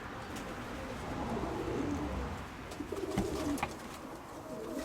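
Pigeons coo in a loft, their low soft calls rising and falling over steady background noise, with a few faint clicks and rustles nearby.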